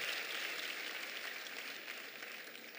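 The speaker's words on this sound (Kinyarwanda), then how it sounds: "Twongera Imana amashyi." A church congregation claps for God in a sustained round of applause, steady and full, tapering slightly toward the end.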